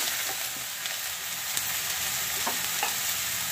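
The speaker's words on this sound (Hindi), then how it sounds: "थोड़ा सा तेल अभी हम डालेंगे क्योंकि इसमें हमें लौकी फ्राई करनी है" Chopped bottle gourd frying in hot oil in a kadai, a steady dense sizzle with occasional soft stirring scrapes, close and continuous without talk.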